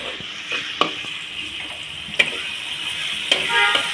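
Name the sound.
onions frying until brown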